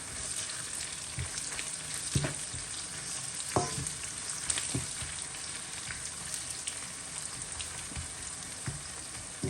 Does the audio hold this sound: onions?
yes